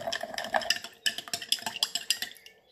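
A spoon stirs sugar into carbonated water for a blue soda drink, clinking repeatedly against the glass in quick, uneven strokes, close and fairly loud, with no voices.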